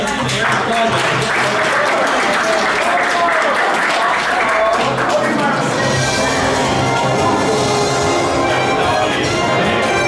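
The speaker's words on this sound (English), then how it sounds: "Let's give an air of applause." Audience at an anime convention game show applauds, a dense wash of clapping that runs through the whole stretch, swelling early and carrying on steadily with crowd noise underneath.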